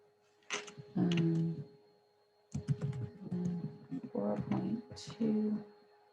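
Fingers tap on a computer keyboard in short bursts of close clicking, with tonal voice-like sounds mixed in throughout.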